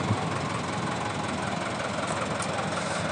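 Modified HMT 5911 tractor fitted with a 2511 silencer, its diesel engine idling nearby in a steady, dense rumble with no breaks or talk.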